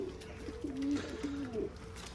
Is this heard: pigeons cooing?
yes